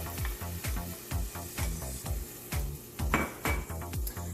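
Blended tomatoes poured into a black bean and vegetable soup pot, bringing a rhythmic series of clinking metal knocks and scrapes about every half second, close and fairly loud with a faint sizzle between them.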